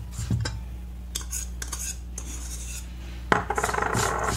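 A spoon scrapes and stirs through a bowl of ground cookie crumbs, ground walnuts and melted butter, a steady gritty rasping punctuated by light clinks against the bowl, with a louder burst of quick scraping strokes near the end.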